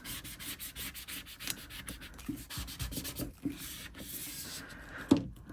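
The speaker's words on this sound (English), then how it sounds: "Squeegee that along." A squeegee is dragged along a resin plaque in short repeated strokes, giving close, soft scraping and rubbing sounds with a brief knock near the end.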